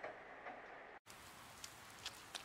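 Steady rain from the Persona 4 Golden video game falls as a soft, even hiss with scattered light ticks, faint and continuous, briefly cutting out before resuming.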